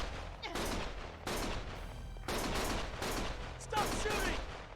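Gunfire in the video game Lost Judgment: repeated bursts of shots in quick succession, loud and close, with a few short pauses between volleys and some speech mixed in.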